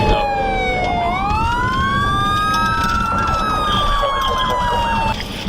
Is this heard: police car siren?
yes